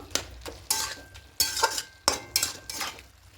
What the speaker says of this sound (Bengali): এবার ভেজে রাখা বেগুনগুলো দিয়ে দেব দিয়ে খুব ভালো করে মিশিয়ে নেব